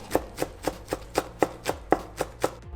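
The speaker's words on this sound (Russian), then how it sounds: "Ну и мелко нарезаем зеленый лук." Steady knife chopping of green onion on a cutting board, about ten crisp, evenly spaced strikes close by, with no talking.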